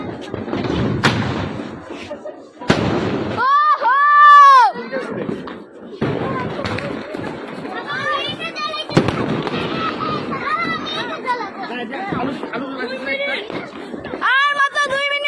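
New Year's Eve firecrackers and fireworks go off in a run of sharp, loud bangs and crackling bursts, with a few whistling rockets, while people talk and chatter close by throughout.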